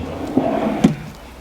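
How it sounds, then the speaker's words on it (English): A deep, full-extension kitchen drawer in a 2019 Northwood Arctic Fox 28F travel trailer slides open with a soft thump at the start and another firmer knock as it reaches its stop, close by over a quiet room hum. "Let me show you the drawers while you're here."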